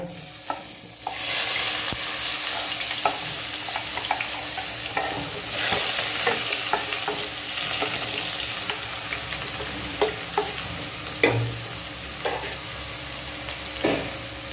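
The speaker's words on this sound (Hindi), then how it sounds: "इसको प्याज को फ्राई कर लेंगे थोड़ा हल्का लाइट ब्राउन होने तक" Finely sliced onions fry with cumin and carom seeds in a pan, a steady close sizzle broken by a utensil's scraping stirs and occasional soft knocks against the pan.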